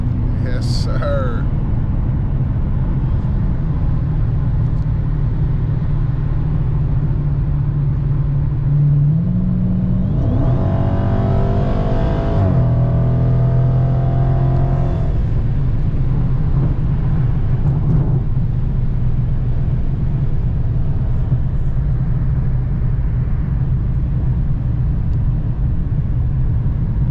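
A Dodge Challenger Scat Pack's engine rumbles loudly and continuously through its open active exhaust, rising in a revving pull midway, while a person talks over the drone.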